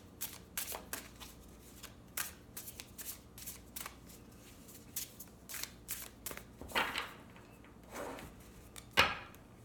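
Banksy tarot cards being shuffled close up, a quick series of crisp riffles and flicks with softer handling noises in between, no talking.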